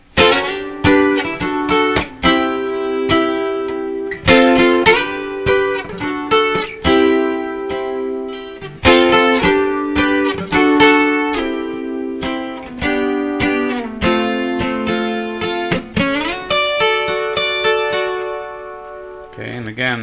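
Strummed guitar chords from the chord section play steadily and fairly loud. Bright strokes repeat in a rhythmic pattern for about twenty seconds with brief changes between chords.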